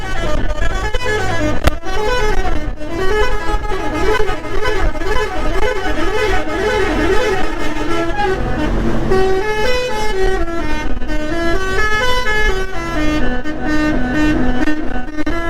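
A loud, musical vehicle horn on a road in Jaipur, Rajasthan, plays a continuous, melodic series of tones over engine rumble, sounding almost like an instrument.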